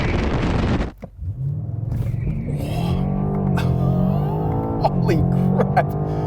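BMW M8 Competition launching hard off the line under launch control for a quarter-mile run, loud engine roar rising steadily in pitch through the gears, a brief dip near the start, with a person exclaiming over it.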